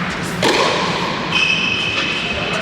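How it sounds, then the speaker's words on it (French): A racket strikes a tennis ball for a winning shot at match point in an amateur club tennis match: a single sharp thud, followed by a brief high tonal ring, over faint background chatter. "qui met un super coup gagnant, Alexandre."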